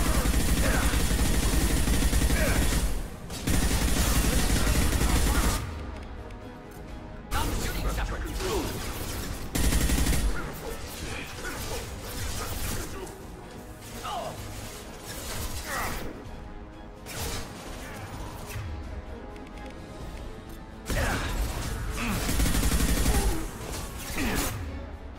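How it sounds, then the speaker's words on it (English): Gunfire and crashing impacts in Mass Effect 2 combat, broadband bursts of shots and explosions rising and falling over about twenty-five seconds, loud and busy, with occasional voices in the mix. "I'm taking fire here."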